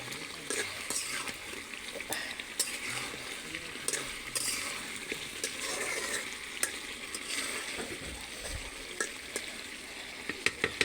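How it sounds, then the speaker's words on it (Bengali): Beef curry with potatoes cooks in a pan, giving a steady close sizzle with scattered scraping and stirring clicks throughout, and faint voices now and then in the background. "এই যে গোশত রান্না করছি"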